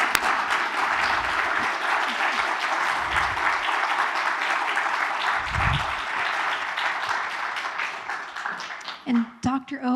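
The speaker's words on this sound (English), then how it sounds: "I'll give a big round of applause for Dr." Sustained audience applause for the lecturer after a constitutional history lecture, steady dense clapping at moderate level that thins out near the end as a voice begins speaking.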